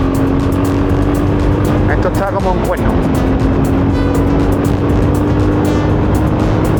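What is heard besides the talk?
VOGE 300 motorcycle riding on a dirt trail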